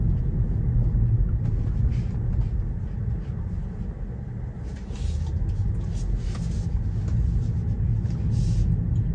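A Tesla Model 3 electric car gives a steady low cabin rumble with road and motor hum, heard from inside, and the rumble swells slightly as the car picks up speed.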